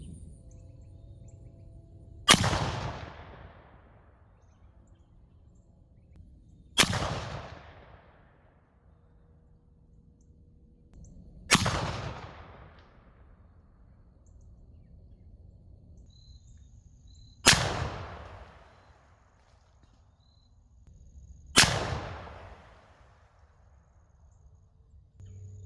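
Five loud shotgun blasts firing Hornady Superformance 300 grain sabot slugs outdoors, each a sharp report with a decaying tail, spaced several seconds apart, quiet between shots.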